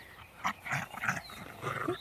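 Close, fairly quiet dog vocalizing in a series of short whiny grumbles and low growly yips at uneven intervals, outdoors on grass.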